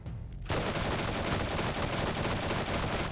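Sustained rapid SMG fire from a first-person shooter, Borderlands, starting after a brief quiet moment and continuing as a loud, dense burst of automatic shots through to the end.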